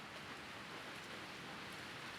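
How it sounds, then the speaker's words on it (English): Steady, dense storm rain in the video game Maitetsu, a continuous hiss of heavy downpour with no breaks, alone and even throughout. "Raindrops filled my mouth in the short time it took me to say 7 words."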